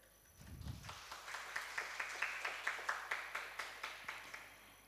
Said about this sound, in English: let us all give a round of applause to all speakers and moderator